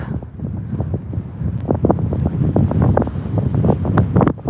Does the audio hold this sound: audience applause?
no